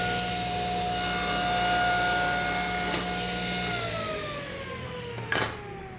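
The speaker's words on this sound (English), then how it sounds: "Now I've got the stop set up so I can cut the boards to the exact length." A saw cutting wooden boards to exact length against a stop for a wooden box, a sustained whirring cut with a ringing blade tone that slowly winds down, ending with a brief knock.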